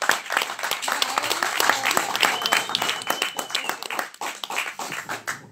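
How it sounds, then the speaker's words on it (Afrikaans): A small audience at a casual live sing-along claps for the guests, with brisk, scattered hand claps close by that swell and then thin out over a few seconds. "kom ons geef hulle lekker aan een klap"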